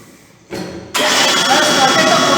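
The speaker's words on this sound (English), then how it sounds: "Now I am going to start the motor." Electric motor starting up on a Pelton turbine fluid mechanics lab rig, a sudden jump to a steady broadband whir and rush that holds loud and continuous after a quieter lead-in.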